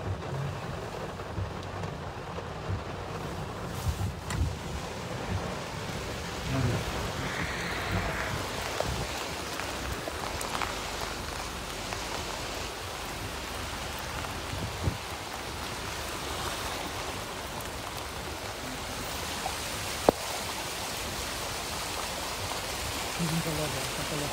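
Heavy night rain in Funchal, Madeira pours down in a constant wash of hissing and rushing water, close and fairly loud, with a few brief sharper knocks breaking through and no speech.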